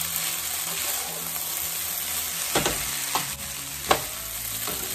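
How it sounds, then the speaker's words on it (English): Ground beef lo mein tossed with a spoon in a hot pan, constant sizzling frying with a few sharp clinks and scrapes of the utensil against the pan. "You want to toss all that around with whatever utensil is easiest."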